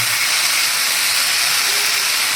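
Steady loud hiss and sizzle of rice batter poured onto a hot oiled iron griddle while making rice pudla, a continuous close frying crackle without pause.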